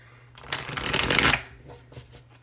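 A single burst of tarot cards being shuffled, close and crisp, swelling for about a second then tapering into a few soft taps. No voices.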